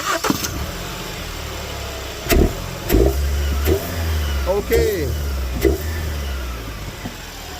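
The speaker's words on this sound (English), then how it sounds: "Okay, start the car." A turbocharged Hyundai Santa Fe 2.0T with an underboost fault and a leaking intercooler starts up close by, then runs and revs in short bursts over a steady idle. A person says a single brief word.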